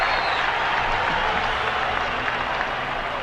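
A stadium crowd applauds and cheers as a play is shown on the big screen, a dense, steady roar of clapping and voices that holds at an even level for the whole stretch.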